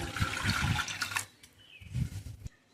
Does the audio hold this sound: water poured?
yes